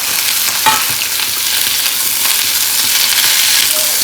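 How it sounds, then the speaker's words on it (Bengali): Chicken sautéed and stirred in a pan makes a loud, continuous close sizzle, with a scrape or clink of the spatula against the pan now and then. "একটু সতে করে নেবো"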